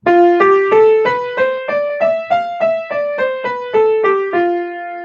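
A piano plays a white-key scale starting on F, about a dozen evenly spaced notes climbing up and then coming back down, clear and close with no voices.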